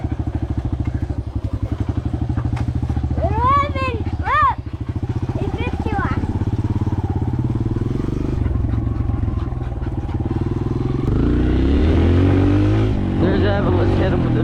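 Dirt bikes racing, Kawasaki KLX among them, with loud continuous engine drone and revving close by, gear shifts and rises in pitch, while people talk and shout over the engines.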